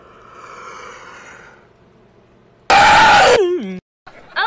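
A voice imitates an exaggerated classroom yawn: a sudden loud, breathy wail that slides downward in pitch for about a second, after quieter vocal sounds and a pause.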